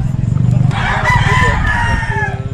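A rooster crows loudly and close by at a cockfighting arena in Cebu, Philippines, its drawn-out call rising over low background voices.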